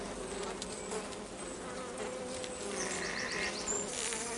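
Honeybees buzz steadily around a hive during a queen release and merge with bees from a nucleus colony, a dense close swarm drone filling the whole stretch with no talk.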